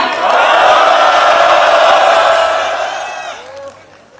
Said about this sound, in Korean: 여러분이 세 분을 큰 박수와 함성으로 맞이해 주시기 바랍니다